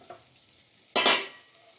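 Paneer dropped into hot oil in a pan sets off a sudden loud sizzle that flares up and then gradually fades, after a quiet lead-in with a faint clink.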